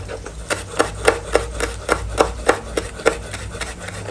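Thin slices cut through fresh vegetables on a board with a knife, about a dozen crisp, evenly spaced chopping strikes, close and clear, with no voices.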